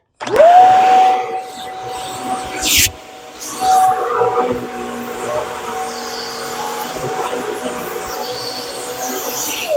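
A Shark Rocket vacuum cleaner runs after its lower hose is replaced, starting up loud and close with a steady high motor whine and a rushing airflow that shifts as it is moved.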